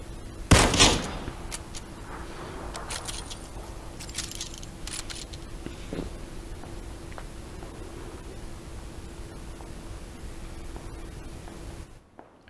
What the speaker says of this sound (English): They're just running around and shooting.